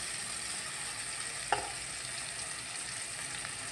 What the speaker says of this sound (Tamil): இது கொஞ்சம் நல்லா எண்ணெயில் நல்லா வறுபடட்டும்